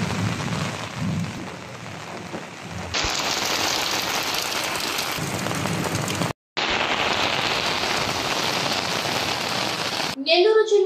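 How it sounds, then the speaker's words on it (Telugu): Heavy rain pours steadily in Kaluvai mandal, Nellore district, a dense loud hiss of drops on surfaces that fills the whole stretch, broken by brief cuts. "నెల్లూరు జిల్లా కలుపాయి మండలంలో మోస్తారు నుంచి భారీ వర్షం కురిసింది"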